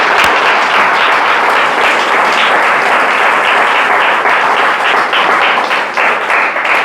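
Church congregation applauding loudly and steadily throughout, a dense wash of many hands clapping at close range with no pause.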